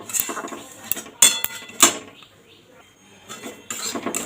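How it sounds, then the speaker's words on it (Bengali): A spoon scrapes and clinks against a pan as semolina is gently dry-roasted over low heat for a chomchom sweet, with irregular close metallic knocks and stirring strokes and quieter gaps between. "সুজিটা এবার ভেজে নেব হালকা করে গ্যাসটা দিয়ে ভাজবো যাতে এটা লাল না হয়ে যায়"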